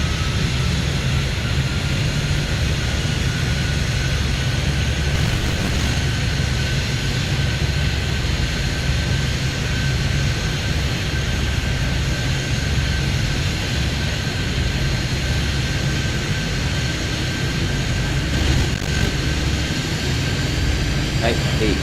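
A jet aircraft takes off in the airport control game Airport Madness, a steady roaring engine drone with a high whine running throughout, loud and continuous, with no voices.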